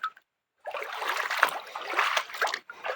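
Cold river water, swollen slightly after the first monsoon rain, rushes and splashes steadily and close by, following a brief quiet opening.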